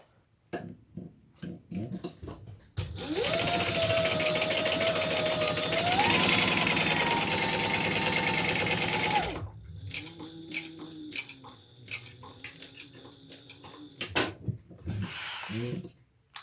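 Sewing machine stitching across the bottom of a handbag to close a slip pocket: a loud, steady motor whir runs for about six seconds and rises in pitch partway through, framed by clicks and handling noises before and after.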